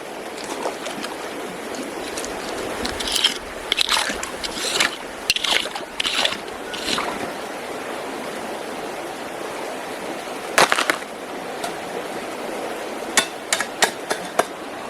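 A small creek in New Zealand gold country flows over bedrock in a steady, soft wash of water, broken by scattered close knocks and taps of stones or tools.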